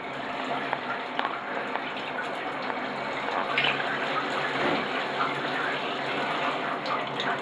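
Running water from a shower hose sprays for birds, a steady gushing hiss that holds at moderate level with small splashes throughout, while a person speaks softly now and then.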